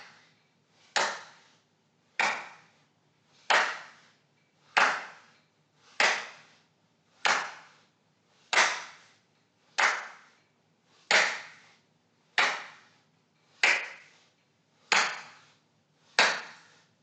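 Single sharp hand claps during a guided movement exercise, thirteen evenly spaced claps about one and a quarter seconds apart, each crisp and distinct against a quiet room.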